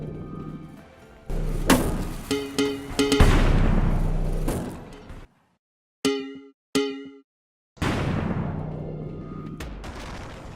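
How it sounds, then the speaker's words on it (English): Several layered sci-fi explosion effects for a video game, synth layer, bassy boom and noise, with deep booms and crackling, metallic tails, each decaying into silence before the next blast hits. "The explosion consists of a sci-fi synth explosion layer, a bassy boom for punch,"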